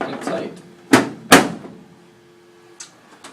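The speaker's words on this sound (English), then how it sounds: "when you put your door back on, you will put the door on, and you'll also hear 2 clicks" A humidifier's access door being refitted, with two sharp clicks as it snaps into place amid a little handling noise, close and clear with no talk.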